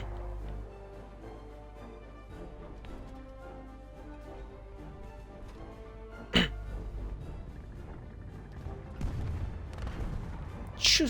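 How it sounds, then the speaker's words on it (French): War Thunder tank battle explosions: a sharp, loud boom bursts out partway through, followed by further heavy blasts near the end over a low rumbling game background with quiet talk. "l'explosion au bout là."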